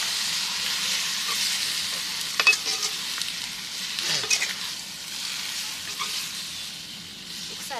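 Chukkakura chicken curry frying in a pan sizzles steadily, with scraping stirs and soft clinks of a spoon against the pan at close range.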